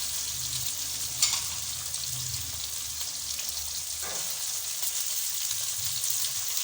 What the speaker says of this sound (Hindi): सब चीज़ों को अच्छी तरह चम्मच की मदद से मिक्स कर लेंगे,